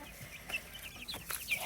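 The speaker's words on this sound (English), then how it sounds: "That is a bantam rooster" A bantam rooster clucks near a backyard coop, a few short clucking calls in close succession over soft background noise.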